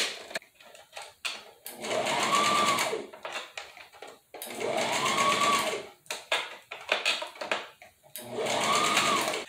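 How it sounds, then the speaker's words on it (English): A sewing machine stitches hair tracks onto an afro curly topper hair unit, running in three sustained bursts of rapid whirring with short pauses and small handling noises between them, close and fairly loud. "Just move it up and start sewing around and around."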